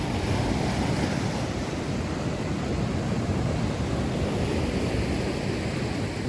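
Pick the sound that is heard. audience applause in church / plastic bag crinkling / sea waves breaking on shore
sea waves breaking on shore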